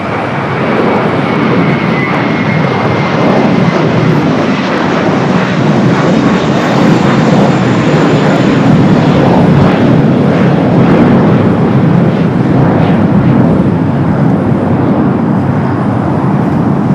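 An Airbus A321 jet airliner at LAX roars loudly and steadily throughout, a dense, continuous engine rumble with no voices.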